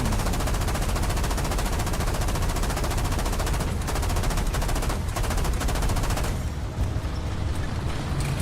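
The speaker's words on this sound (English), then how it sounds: "If ally is shooting, then I shoot too. Shoot at him!" Dense, continuous automatic gunfire from War Thunder tank combat in a Swedish Rank II ground battle, loud and sustained throughout with short bursts layered over a constant rumble.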